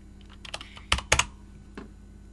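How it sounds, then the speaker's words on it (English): A few keystrokes tap on a computer keyboard, then two louder presses come close together, ending in one last key. The typing is quick and close, with no one speaking. "So we can type in wget and then right click to paste. And click enter."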